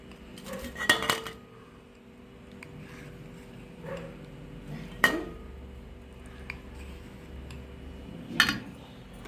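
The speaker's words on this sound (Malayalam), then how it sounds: "ഒരു 2 ടേബിൾ സ്പൂൺ ന്യൂട്ടല്ല ഞാൻ എടുക്കുകയാണ്" A spoon scoops two tablespoons of homemade Nutella from a container, making a few sharp metal-on-dish clinks and scrapes spaced several seconds apart, close and clear over a quiet kitchen background.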